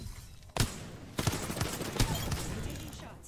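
Gunfire in an Apex Legends match, three or four sharp bursts of shots spaced about a second apart, each followed by a short ringing tail, over quieter background game noise.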